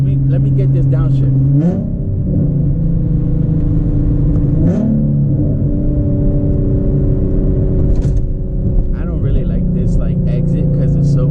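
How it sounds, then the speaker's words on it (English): Tuned Nissan 370Z running on E85 downshifts and revs, a loud, close engine with steady harmonic drone that steps up in pitch at each downshift blip, continuous throughout. "let me get this downshift."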